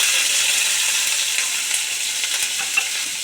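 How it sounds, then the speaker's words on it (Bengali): Chopped onion fries in a little hot oil with a bay leaf for a potol dolma recipe, producing a continuous, even crackling sizzle close to the pan. "এবার এখানে হাফ কাপের মতো পেঁয়াজ কুচি নিয়েছি, সেটা দিয়ে দেব।"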